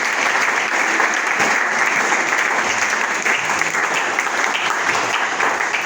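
Church congregation applauding steadily to acclaim the Lord, a dense, sustained wash of clapping from a large crowd lasting the whole stretch with no pauses.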